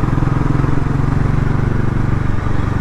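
A Bajaj Pulsar NS 400Z motorcycle rides in fourth gear, its engine a loud, close, steady throbbing drone with a rapid pulsing beat that holds throughout, with no talking.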